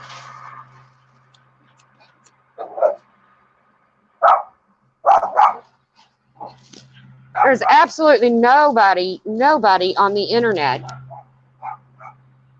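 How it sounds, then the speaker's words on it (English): Several excited pet dogs bark and yip repeatedly indoors, loud and close, in bursts that run into a sustained flurry of barking, with someone talking over and between the outbursts. "Hold on, these dogs are going nuts."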